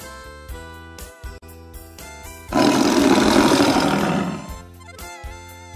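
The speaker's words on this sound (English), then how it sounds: "Tiger." A tiger roars loudly for about two seconds in a single sustained burst, set against music that plays before and after it in an animal-care lesson.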